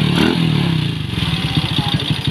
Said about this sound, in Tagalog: Bandar na po yung motor.